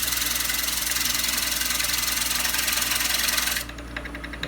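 Wood lathe spinning as a winged bowl is turned, a steady dense whirring hum with a rapid fluttering pulse from the spinning wings, loud and close, easing to a softer tone near the end.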